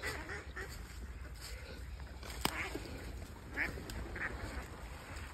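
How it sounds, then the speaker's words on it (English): Ducks quack in scattered, fairly faint bursts at a pheasant shoot, calling from a short distance over steady outdoor background noise, with a few louder honks mixed in. "With all these ducks as well"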